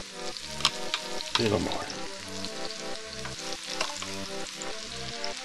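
Ocean perch and garlic frying in a pan, a loud close crackling sizzle with a burst of stirring or shifting around the middle, and someone speaking briefly over it.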